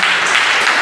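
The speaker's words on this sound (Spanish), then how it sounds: "Démele un aplauso, por favor, a mi hermano Jami." A church congregation applauds in a dense, continuous burst of clapping, brief and fairly loud, with no voice over it.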